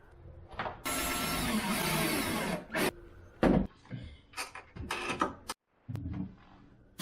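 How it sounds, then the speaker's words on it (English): Power drill boring through a boat seat bottom and a 2x4 mounting piece during a Bayliner back seat rebuild: a long loud grinding burst, then shorter bursts, clicks and clunks with quiet gaps, close up. "drill a hole through the bottom of our seat and 2x4 mounting"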